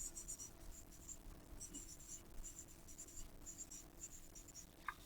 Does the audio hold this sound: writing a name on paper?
yes